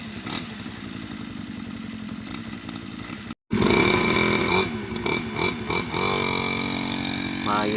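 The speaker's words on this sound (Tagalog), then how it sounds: "Sa ngayon wina-warm up namin para malaman namin kung maayos pa ba yung takbo niya." A motorcycle engine that has been ridden for seven years, warming up after a repair, idles and revs loudly up close with a steady mechanical rattle, broken by a brief cutout partway through.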